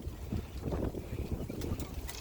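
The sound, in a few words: wind blowing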